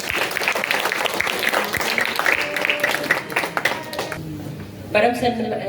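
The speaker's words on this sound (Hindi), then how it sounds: "जोरदार तालियों से स्वागत करें।" Audience applause welcoming a contestant at a bhajan singing competition, loud clapping from a gathered crowd that fades after a few seconds as a voice begins speaking.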